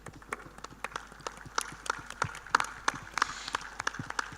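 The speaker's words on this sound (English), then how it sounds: "I request you all to stand and welcome him with a huge round of applause." Scattered applause at an annual school prize-giving ceremony as the chief guest approaches the arena: sparse, uneven claps from a crowd, moderately faint with individual sharp hits standing out.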